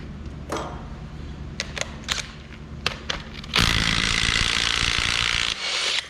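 A 13mm bolt comes out of a 12 valve Cummins engine: a few sharp clicks and taps, then a loud sustained buzz of a power tool running for about two seconds, stopping briefly, then resuming.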